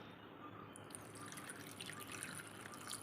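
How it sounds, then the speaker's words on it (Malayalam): Water trickles and drips faintly into a bowl of paneer, a quiet liquid splashing that continues softly throughout. "അപ്പം നമുക്ക് ഇതിലേക്ക് കുറച്ച് വെള്ളം ഒഴിച്ചു കൊടുക്കാം"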